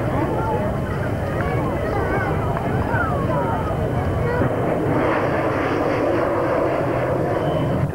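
Jet aircraft roaring past at an air show on reheat, 8,000 pounds of thrust, a loud continuous broadband rumble throughout with a commentator talking over it.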